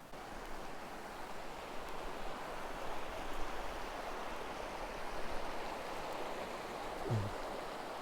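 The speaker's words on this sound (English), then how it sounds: "Now this is a beautiful creek." A mountain creek on the Mogollon Rim in Arizona flows steadily in late April after light snow, a continuous soft rushing wash of water with no voices.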